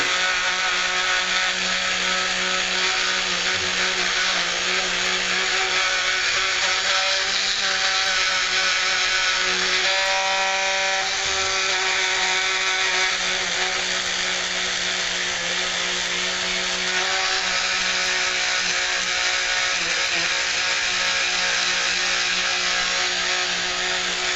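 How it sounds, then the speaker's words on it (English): A buffing wheel polishing 1911 pistol parts makes a loud, continuous motorized whine with a steady hum throughout, and the pitch shifts slightly as metal presses against the wheel. "Somebody asked me why these wheels turn black whenever you're buffing."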